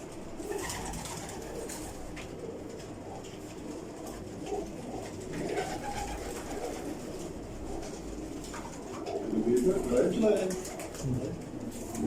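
Breeder pigeons coo in a room, soft low murmuring calls that swell near the end, heard under someone talking throughout.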